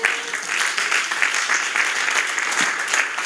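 A church congregation applauding the Lord, a dense, continuous crowd clapping that stays loud and even throughout, with no voices standing out.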